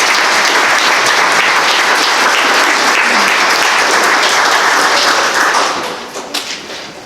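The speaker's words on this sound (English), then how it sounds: "Can we get a round of applause for those?" Sustained applause from a Veterans Day ceremony audience, loud and dense with steady clapping throughout, thinning and fading over the final second.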